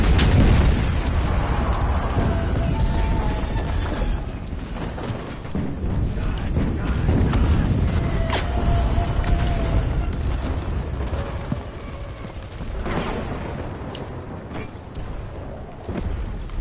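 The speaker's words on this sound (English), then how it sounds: "I'm taking fire right now." Gunfire and blasts from the Enlisted video game, with a steady dense roar of shots and several sharp explosive booms, loud and continuous throughout.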